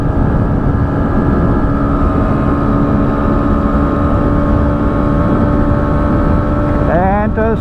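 A Bajaj Pulsar NS125 motorcycle holds high revs at speed in fifth gear against its RPM limiter, a loud, sustained engine drone mixed with heavy wind roar, ending in a brief rising pitch sweep.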